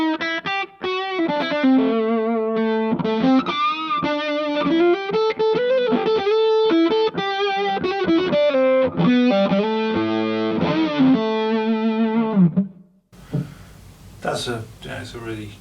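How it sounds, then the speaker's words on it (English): Electric guitar on the bridge pickup played through a fuzz pedal, a buzzy distorted series of riffs and sustained notes, loud and close, ending with a brief spoken voice. "It's a really cool kind of fuzz sound."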